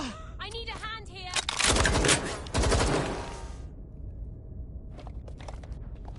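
Rapid gunfire bursts in the video game Watch Dogs Legion, loud automatic volleys peaking in the middle with quieter shots before and after, mixed with game voices speaking.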